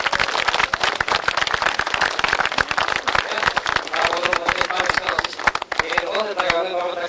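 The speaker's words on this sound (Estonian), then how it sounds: "Aplaus talle, hurra!" A crowd at a 1994 rallycross event in Kogula claps steadily for a rally driver, with dense, continuous applause and an announcer's voice carrying over it.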